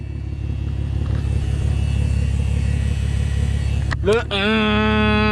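A steady low mechanical whir and rumble of the fuel pumps running in a Porsche Cayenne continues throughout, then a brief rising whine and a high pitched electronic tone near the end.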